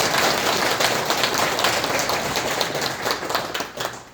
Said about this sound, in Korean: 우리 최경식 시장님께 한번 큰 박수 부탁드리겠습니다